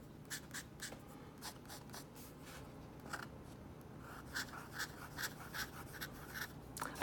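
Broad-nib Lamy LX fountain pen writing on paper, a slightly scratchy steady scrawl of short strokes with small pauses between words, soft and close, no talking.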